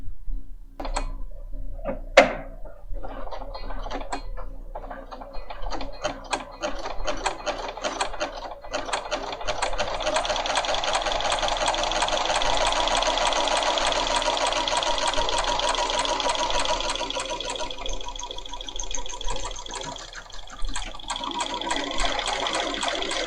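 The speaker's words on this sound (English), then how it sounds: "And let's go ahead and stitch." A Bernina 500 series sewing machine stitches an automatic buttonhole with the 3A foot, a steady fast mechanical whir and ticking that runs continuously up close, with a few clicks at the start.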